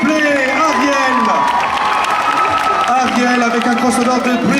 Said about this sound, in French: On peut l'applaudir quand même, s'il vous plaît, Ariel.